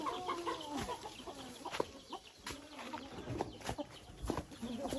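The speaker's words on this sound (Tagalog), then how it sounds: "Hala na, may manok." Hens cluck in short, irregular bursts close by, with scattered rustling and other farmyard bird calls mixed in.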